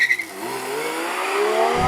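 A Porsche 911 S/T launches from a standstill on tarmac, its engine bogging down as the clutch is released before slowly climbing in pitch; loud and close, with a brief tire chirp at the start and no talking.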